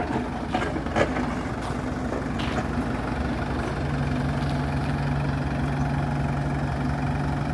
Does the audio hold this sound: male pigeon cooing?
no